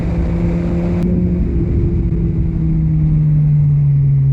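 A motorcycle engine braking while riding, a loud, steady droning hum whose pitch slides gradually downward as the bike slows, mixed with rushing wind noise and no talking.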